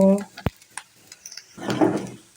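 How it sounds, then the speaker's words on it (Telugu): Curry leaves frying in a pan with onion and grated coconut: a single sharp utensil clack, a few soft scrapes, then a burst of close crackling sizzle near the end, with a brief bit of voice at the start. "ఇప్పుడు కరివేపాకు వేసాను ఈ కరివేపాకు కూడా చక్కగా వేగింది"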